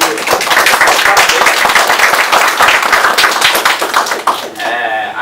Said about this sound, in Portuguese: dar uma salva de palmas para o time